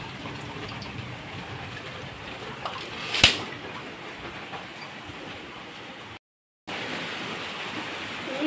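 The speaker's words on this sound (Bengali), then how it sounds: "এখন তো আবার মুষলধারা হচ্ছে" Heavy continuous rain falls in a downpour after hours of storms, a steady broadband roar with one sharp knock partway through and a brief dropout near the end.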